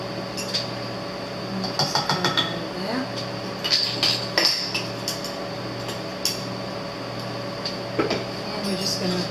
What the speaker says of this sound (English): We're just going to whisk that around.